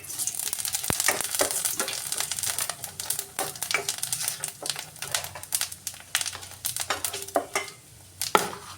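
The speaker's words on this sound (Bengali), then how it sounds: "দিয়ে দিচ্ছি দুটো তেজপাতা, একটা শুকনো লঙ্কা, আর দিয়ে দিচ্ছি 5 ফোড়ন" Bay leaves, a dried red chilli and five-spice seeds frying in hot oil for lau shukto, a steady crackling sizzle broken by sharp pops and spoon scrapes, close and fairly loud with no talking.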